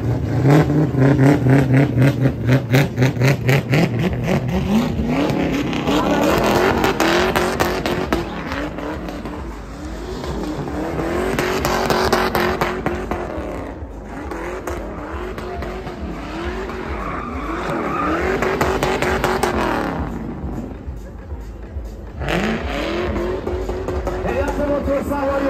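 A Mercedes-Benz and a BMW square off in a drag race at a car event on Kish Island. Their engines roar loud and close, revving up and down in repeated rising sweeps with tire noise, nearly continuous throughout.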